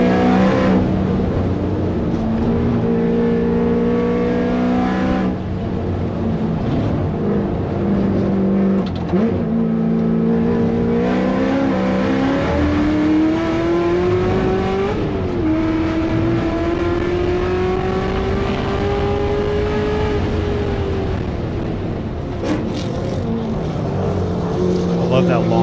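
An American V8 race car engine recorded from inside the car during a session at the Circuit of the Americas: a loud, steady rumble that rises in pitch through long gears, with a brief dip mid-run, under a commentator's talk.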